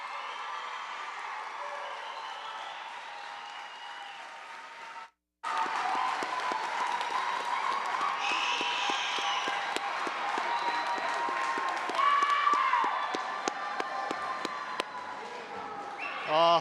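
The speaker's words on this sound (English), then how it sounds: "let's congratulate all the graduates with our cheers and applause" Crowd at a summer commencement ceremony applauding and cheering the graduates after the tassel turn, sustained clapping with scattered whoops and shouts, briefly cut off near the middle then resuming strongly.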